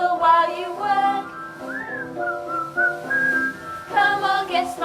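Someone whistles a tune in a stage performance of A Midsummer Night's Dream at Guildford Castle, a clear melodic line of held and sliding notes with short breaks, close and fairly loud, with no voices.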